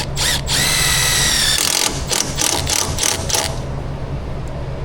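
A power drill drives self-tapping screws into a truck radiator mount. Loud, close whirring bursts rise and then stop abruptly, followed by several short trigger pulses and then quiet.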